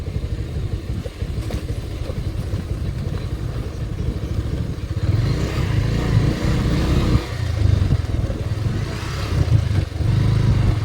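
A motorcycle bumps along a rough, rain-damaged road near a river, its mid-pitched engine droning steadily and swelling louder in the second half, with clattering jolts mixed in.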